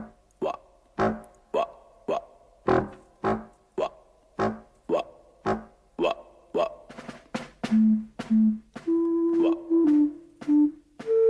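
A bassoon opens an orchestral piece with a series of short, blunt, burp-like blasts repeating in a steady rhythm, then gives way to a few held low notes, loud and close.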